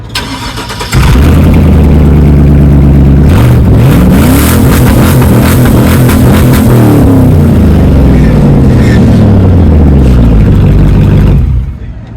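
A burnout truck with most of its exhaust deleted cranks and fires after a second, revs up sharply, then settles into a loud, rough, steady idle with pitch swings before cutting off near the end.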